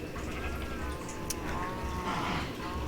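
Cattle in the Brother World video game letting out a long, drawn-out moo over low ambient game noise, with no voices.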